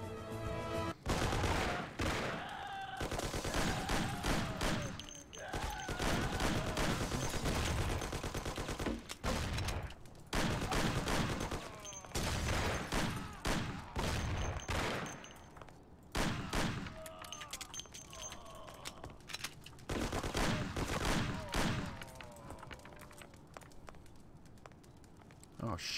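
Heavy gunfight in the Mafia video game, repeated loud volleys of gunshots and rapid fire, close and punchy, in bursts separated by short lulls, with voices talking between and over the shooting.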